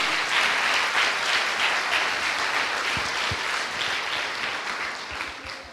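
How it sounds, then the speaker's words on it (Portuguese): A church congregation breaks into sustained applause at a sermon, full dense clapping that rolls on steadily and fades slightly toward the end, with a couple of low thumps mid-way. "Uma salva de palmas para o Senhor Jesus"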